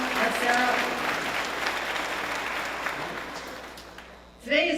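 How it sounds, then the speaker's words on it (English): Audience applause at a Rochester, New York museum ribbon cutting ceremony, a dense crowd clapping that holds steady, tapers off, and gives way to a voice at the end. "Let's give a round of applause to both of them."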